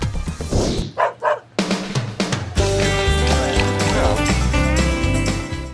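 Dogs at a new dog park south of 5th Street in South Beach, with a few short barks and yips standing out against steady music and a background voice.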